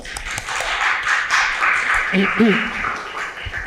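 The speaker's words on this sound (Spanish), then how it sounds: "un aplauso Rafa" Applause from a small group at a camera event for the RED V-Raptor, with scattered claps under a talking voice that carries on over them.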